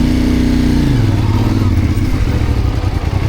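Trail motorcycle engine idling loud and close, its pitch falling as the throttle eases and the clutch is worked, then settling into a steady, slightly rough low rumble.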